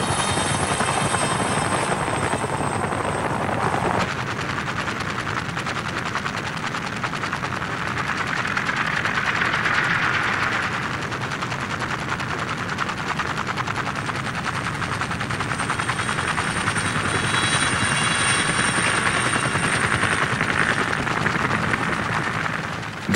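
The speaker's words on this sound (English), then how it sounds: "The Huey set more records for speed, maneuverability, and reliability than any other chopper." A Bell UH-1 Huey military helicopter flies with a steady, loud rotor thump and turbine roar that fills the whole stretch without letup, with possible gunfire mixed in.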